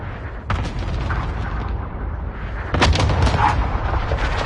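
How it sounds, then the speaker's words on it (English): Cluster airstrike explosions in the video game Warzone: two heavy rumbling barrages of booms, the first starting about half a second in and a louder one near the three-second mark, rolling on continuously. "Cluster strike inbound."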